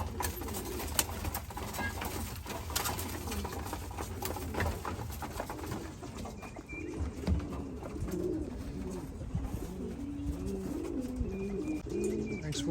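Birmingham roller pigeons around a loft outdoors, with soft repeated cooing and occasional chirps carrying steadily through the scene, alongside faint rustling and patter but no clear wingbeats.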